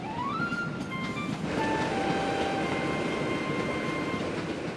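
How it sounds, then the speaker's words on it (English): A train rolls steadily on the rails with a continuous rumbling roar and faint high squeals, loud and unbroken throughout. "It's really the train that's moving, Caillou."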